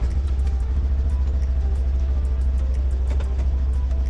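Segway Fugleman UT10 1000cc utility vehicle engine running right after starting, a loud, steady low idle rumble with an even throbbing pulse, close and continuous.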